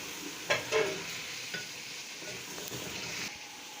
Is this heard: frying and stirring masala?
yes